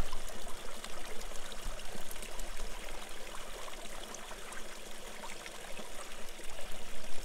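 A creek flowing at night near Denver, Colorado, a steady broadband rush of moving water with a constant even texture throughout and no voices.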